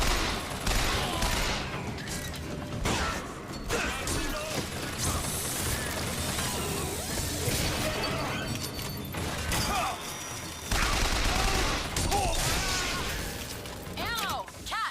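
Bioshock Infinite gunfire rattles in dense bursts of machine-gun and rifle shots with clanking mechanisms and shattering impacts, continuing almost nonstop at close range, with game character voices speaking over the fighting.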